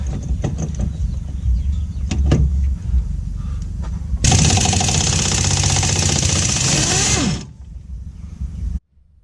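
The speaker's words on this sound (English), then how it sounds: "I had to turn the air compressor on." An air compressor starts partway through and runs with a loud, steady mechanical drone and rattle for a few seconds in a garage during Acura Integra coilover work, then cuts off.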